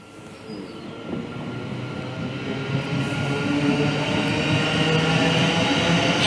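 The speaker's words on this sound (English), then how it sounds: "stupid trains." A train rolls past with a rumbling, clattering roar that grows steadily louder over several seconds, with faint wheel squeal riding on top and no voices.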